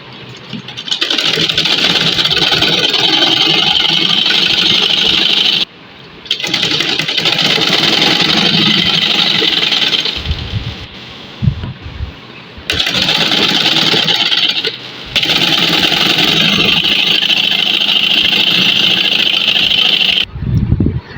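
A sewing machine stitching a kameez runs in four long, steady whirring bursts with short pauses between them, loud and close, with no talk.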